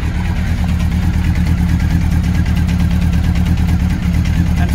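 A Honda CBR 750 Hurricane motorcycle idles at about 1,000 RPM with the choke fully off, a close, loud, steady pulsing engine beat that holds even throughout.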